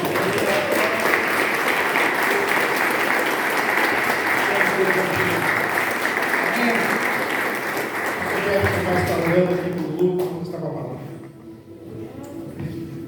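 A church congregation claps loudly and steadily for several seconds, then the applause thins out and fades as voices carry on.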